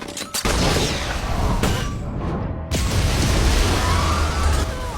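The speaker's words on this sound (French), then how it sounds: "elle échappa de justesse à l'explosion" Loud, dense explosion sounds: several heavy booming blasts with sharp onsets, followed by a sustained roaring rumble that fills the whole clip.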